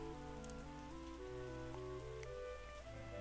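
Steady rain patter from the farming game Terroir runs throughout, blended with layered synthesized music tones that shift in pitch, with no talk.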